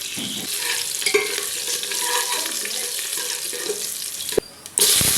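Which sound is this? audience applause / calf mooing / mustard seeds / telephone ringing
mustard seeds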